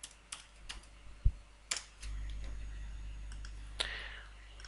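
Sparse mouse clicks and a few keyboard taps in a quiet room while an MMC administration console is opened on a computer, faint and scattered over a low hum.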